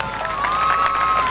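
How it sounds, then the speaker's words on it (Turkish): A brief burst of crowd clapping at an Antalya Aksu Yörükler association gathering, with a steady high whistling tone running through it. "Oo, alkış alkış."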